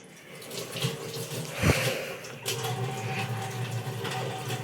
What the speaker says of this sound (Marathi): अरे पाणी. आणि वाया घालू नका.